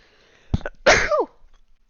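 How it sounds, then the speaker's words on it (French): One close, loud sneeze from a person with a cold: a quick sharp inhale, then a forceful explosive burst that tails off into a short voiced trailing sound, alone in a quiet room. "Et pardon, voilà, j'éternue, j'ai pris froid."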